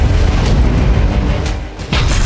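Heavy booming blast from a Russian strike on a Ukrainian airfield in which a MiG-29 is destroyed, a dense low rumble rolling through the clip with a brief dip before another loud surge.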